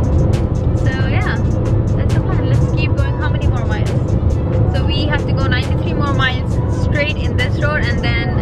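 A car cruising along a road on a moving-day road trip gives steady, loud engine and tire rumble with wind roar throughout, and muffled voices come and go underneath.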